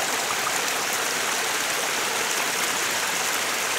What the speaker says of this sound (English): Here's our little waterfall.